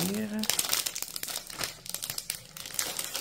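A package of holographic paper is torn open with loud, continuous crinkling and crackling of plastic wrap, close up, with brief speech at the very start.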